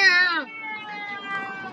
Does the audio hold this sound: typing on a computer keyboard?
no